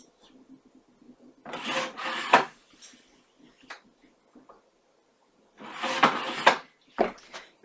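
Cardstock flaps for a slider card are cut by hand in two close bursts of scraping, rasping cuts separated by a quiet pause.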